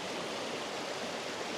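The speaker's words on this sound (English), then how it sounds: "Look at this big waterfall." A big waterfall in Glenariff Forest Park pours in a steady, dense broadband roar, close and constant throughout with no voices over it.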